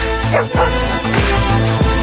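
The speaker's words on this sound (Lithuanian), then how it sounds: "O, gražus šuniukas." A puppy gives a few short, high yips and barks in quick succession, close and fairly loud, with a steady background hum.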